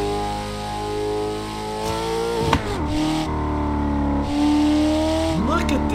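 A 2024 Ford Mustang GT engine in the Assetto Corsa racing game drones and revs through gear changes, with brief tire squeal, loud and steady over about six seconds beneath a voice.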